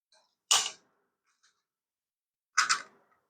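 Inside a 2004 WowWee toy robot, a ratchet mechanism gives two short, sharp clicking bursts a couple of seconds apart, close and isolated against near silence.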